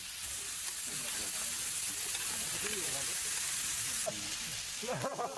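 Samgyeopsal pork belly sizzling on a grill at a frontline DMZ military post, with a steady crackling fry throughout while voices talk over it.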